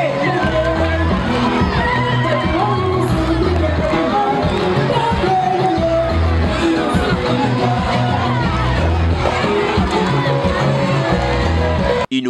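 Audience at a university event in a hall breaking into loud sustained applause and cheering, a dense crowd roar with whoops and yells that carries on steadily.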